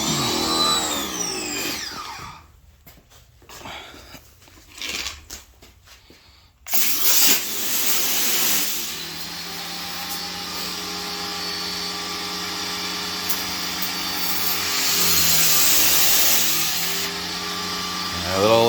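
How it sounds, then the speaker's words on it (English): A small electric pressure washer pump runs steadily in a greenhouse, a continuous whining motor hum with a spray hiss that starts after some quiet handling noises and holds for the rest of the stretch. "A little electric pump doesn't seem to have an awful lot of juice to it."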